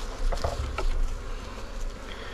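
Honeybees buzzing close around a hive entrance, a steady insect drone with a few brief louder passes as single bees fly by, no voices.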